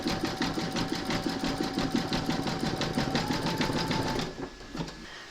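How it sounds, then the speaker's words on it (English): An embroidery machine stitches round number 8 on a hooped moon phases table runner, a fast, steady mechanical stitching rhythm that runs close and loud before stopping near the end. "pop your hoop into your machine and stitch round number 8 to secure it"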